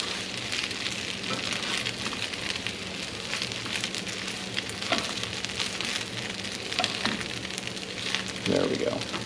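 Egg fries in a pan on a stovetop with rice stirred in, a steady close sizzle with light crackles and a few clinks, while someone talks over it.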